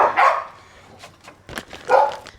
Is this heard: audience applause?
no